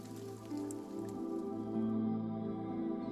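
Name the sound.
rain dripping, sound effect in a zombie story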